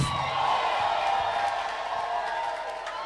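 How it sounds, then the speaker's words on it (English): A church congregation at a deliverance service shouts and cheers for the Lord, a sustained roar of raised voices with some scattered claps throughout. "Give the Lord a shout and a clap."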